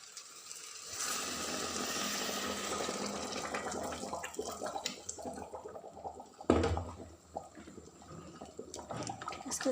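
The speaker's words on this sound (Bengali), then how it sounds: "এখন ঝোলটা দিয়ে দেবো।" Gravy is poured into chicken kabsa during cooking, a soft, steady liquid splash and sizzle that lasts several seconds, followed by a sharp clatter of a utensil and quieter pan noises, with no talk.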